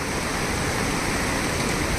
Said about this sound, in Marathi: वेळ नदी आता फुल भरून दुथडी भरून वाहत आहे